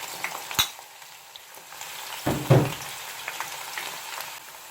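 Flat-sliced garlic and green onion hit leftover deep-frying oil in a pan, giving a quiet crackling sizzle with a brief louder burst of spattering and a few stirring clatters.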